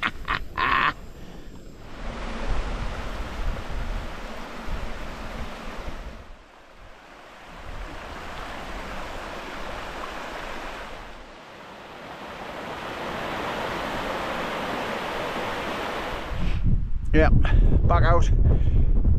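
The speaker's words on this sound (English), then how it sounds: "I don't know how much of the wind you can hear, but it's wild" Strong wind roars and buffets the microphone in long gusting waves at a stormy wild camp, loud and rushing, with brief speech and clatter at the edges.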